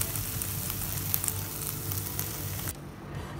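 Teriyaki chicken fries in a pan with a steady, close crackling sizzle that softens near the end.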